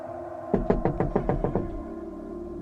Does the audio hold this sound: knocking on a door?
yes